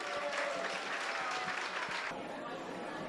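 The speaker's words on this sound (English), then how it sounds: "big round of applause for our maids of honor" Wedding guests give a steady round of applause for the maids of honor, a dense crowd clapping that holds for a few seconds with talk mixed underneath, then softens near the end.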